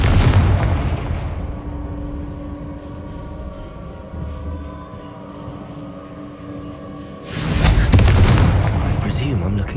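A Confringo blasting-spell explosion in Hogwarts Legacy opens with a loud booming blast that rumbles away into a fading low drone. A second heavy explosion bursts near the end.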